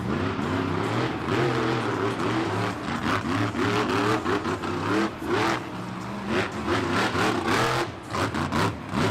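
The Vendetta monster truck's engine revs hard at a Monster Jam show in San Francisco, loud rising and falling throttle bursts in quick succession with arena noise around it.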